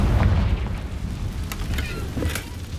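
Confringo spell explosion in Hogwarts Legacy, a deep booming blast followed by a rumbling, crackling tail, with a few sharp bursts over about three seconds.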